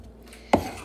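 A single knife chop through onion on a board lands halfway in, one sharp close knock against a quiet background.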